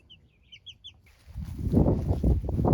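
Cornish cross meat chickens on a homestead, a few faint high chirps first, then a dense, loud, close rumble of birds shuffling and clucking together.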